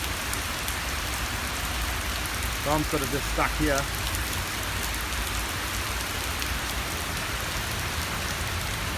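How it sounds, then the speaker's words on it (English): Heavy pouring rain in Melbourne hisses steadily and loudly throughout, a dense continuous wash with a person talking briefly in the middle. "It's been like pouring rain really hard for about 10 to 15 minutes now."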